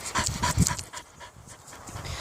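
A dog pants in quick, close breaths for a couple of seconds, with a brief splashy rustle early on.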